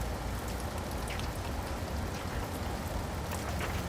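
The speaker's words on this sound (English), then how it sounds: "Because the rain ruins everything." Steady rain pours onto surfaces near Flathead Lake, a dense, even hiss with scattered drops and no voices.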